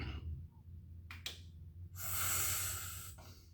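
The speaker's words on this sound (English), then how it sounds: "I want you to blow all the air out as hard as you can" A forceful exhale while bracing the core for a squat: a long, breathy rush of air that swells and fades near the microphone, preceded by a few short breath sounds, with no talking.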